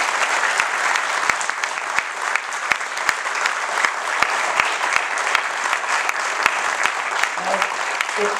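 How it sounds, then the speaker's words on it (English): A crowd claps for a panel after an old-photos slideshow, loud and sustained for over eight seconds, with a few sharp individual claps popping out of the dense wash and a brief voice near the end. "give a huge round of applause to the panel"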